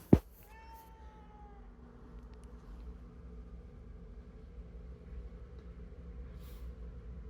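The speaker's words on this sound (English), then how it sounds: "Oh, you don't want to meow anymore?" A domestic cat gives one sharp, loud meow at the start, then a quieter drawn-out meow follows, before fading into low room background with no talk.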